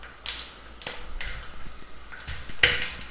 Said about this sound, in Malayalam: ഉണക്കമുന്തിരിയും ചേർത്ത് നന്നായിട്ടൊന്ന് ഫ്രൈ ചെയ്തെടുക്കാം.